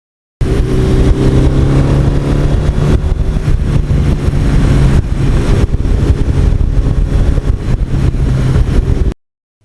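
A 1982 Suzuki GS1100E motorcycle engine drones loud and close while riding back roads, holding a steady rumbling note with slight rises in revs and wind rush throughout, then cutting off abruptly.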